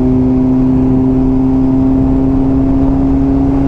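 A BMW car cruises in sixth gear, its engine giving a steady, loud, unchanging drone with a constant low hum and road rumble throughout.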